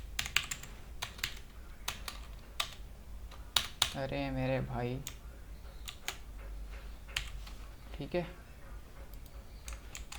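Typing on a newly bought computer keyboard during a late-night programming session, irregular clicks and key taps scattered throughout, close and crisp, with someone speaking briefly in the middle and soft background hum.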